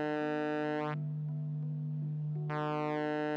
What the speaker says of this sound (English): that's the sound of all those transistors going into saturation and suddenly becoming non-linear